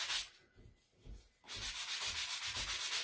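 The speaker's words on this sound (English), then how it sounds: "I'm just sanding this down to make it kind of become one with the wood." Rhythmic back-and-forth rasping of sandpaper on wood, a few slower strokes then a quicker steady run of scrubbing, close and fairly quiet.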